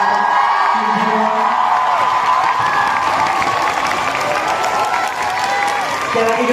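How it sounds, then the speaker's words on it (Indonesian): A large fanmeet audience applauds, cheers and whoops for actress Kim Ji Won, a loud, sustained roar of clapping and shouting that fills the hall. "Kayaknya kita butuh standing ovation buat Kim Ji Won. Boleh tepuk tangan untuk"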